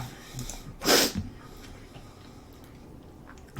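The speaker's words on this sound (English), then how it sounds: "one second, I gotta sneeze" A single close sneeze bursts out sharply, followed by a short sniff, against a quiet room.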